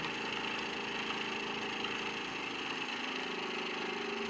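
A small electric motor driven under OMRON photoemitter control runs quietly and steadily, a smooth continuous hum holding an even level throughout with no pauses.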